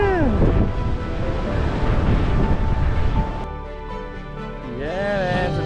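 Ocean waves breaking on the shore below the San Juan lighthouse in Puerto Rico, a loud continuous wash with heavy wind buffeting the microphone and a voice briefly heard over the surf.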